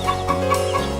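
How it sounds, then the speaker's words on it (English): Chickens clucking in a video game trailer, a few short repeated clucks, close and clear, with no talk. "The boy feeds chickens"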